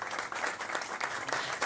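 Journalists at a football press conference give a sustained round of applause, dense rapid clapping heard alone and at moderate loudness for a short burst.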